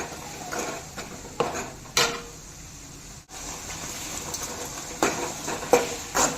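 Tomato, onion and salt are sautéed in a pan, with a soft sizzle under sharp clinks and scrapes of a spoon against the pan at irregular intervals, close and moderately loud, with no voices.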